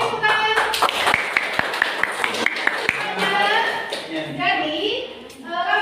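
Children in a classroom clap in a scattered burst of sharp, uneven claps while a teacher and pupils talk over and after them.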